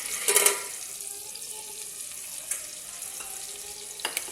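Green chillies frying in a pan for pulao give a soft, steady sizzle, with a brief louder burst of spatter near the start and a few light clinks of stirring later on.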